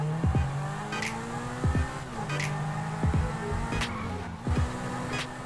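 A supercar speeds along a highway in GTA V, its engine holding a steady, loud drone throughout, with sharp transient bumps and brief squeals recurring roughly every second as the car races at top speed.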